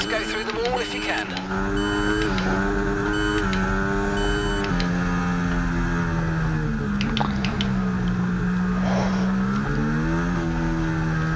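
A Formula 1 race car engine in the F1 24 video game, with Aston Martin and Williams cars at the Saudi Arabian circuit, drones loudly and continuously, its pitch rising and falling through gear changes during a warm-up lap, with a game voice over it.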